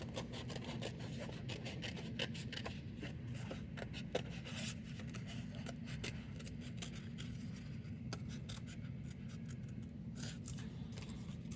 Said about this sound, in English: Next, you're going to take your scissors and we're going to cut along the edges.